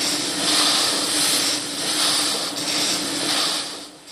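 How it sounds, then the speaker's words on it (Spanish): Dozens of antique piston engines run together in an engine museum in Vista, California, making a steady mechanical hum with a rhythmic swelling pulse and hissing wash, fairly loud and continuous. "Pero su sonido llena el Museo de Motores Antiguos en Vista, California, cerca de San Diego, donde hay docenas de máquinas funcionando."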